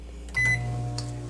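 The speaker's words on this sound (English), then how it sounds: "I've got it over here in the microwave." A microwave oven hums steadily while melting butter, a low mechanical drone that steps up in loudness as it kicks on, with a faint tick partway through, close and with no voices.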